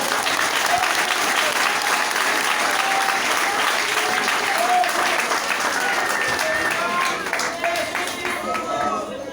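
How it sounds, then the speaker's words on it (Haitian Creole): Sustained, loud applause from a church congregation during a worship service, dense clapping filling the whole stretch with a voice faintly underneath. "Applaudissez l'esprit"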